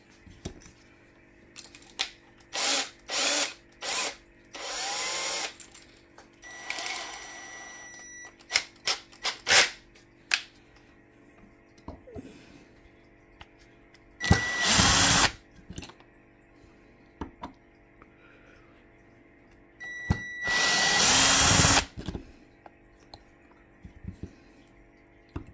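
Power tool on an HPI Savage nitro truck, whirring in short bursts of a second or two as motor mount screws are removed, with longer runs near the middle and end and quiet clicks and handling between.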